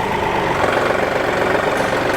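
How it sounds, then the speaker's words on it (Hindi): A John Deere 5210 Gear Pro 4WD tractor, a 50 hp diesel, idles steadily at close range with an even, rhythmic knocking chug and no voices. "ट्रैक्टर को स्टार्ट करके इसकी आवाज़ सुनवाता हूँ आपको"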